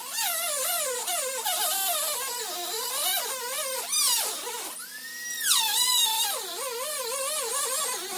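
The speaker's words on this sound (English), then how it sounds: "I did finish it with the Dremel" A Dremel rotary tool cuts through a plastic Toyota Tacoma bumper, giving a loud, continuous high-pitched whine that rises and falls in pitch as the load changes, running alone throughout.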